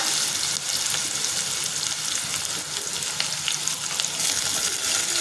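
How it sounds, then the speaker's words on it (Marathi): Garlic and onion sauté in a hot pan for a spinach and masoor lentil bhaji, a steady close sizzle running without a break, with light stirring scrapes mixed in and no voices. "आणि आता त्यामध्ये मी लसूण आणि कांदा टाकून ते छान परतून घेणार आहे"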